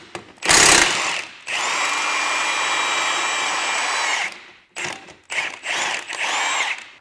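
A power tool whirs and ratchets as suspension bolts come out of a 2013-17 Subaru Crosstrek during a lift kit install, with a sharp burst, a long steady run, then several short close bursts.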